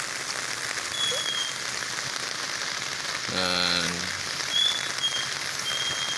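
Continuous evening rain falls steadily in Isulan, a broad hiss of drops on surfaces, with a brief voice or tonal sound rising over it midway.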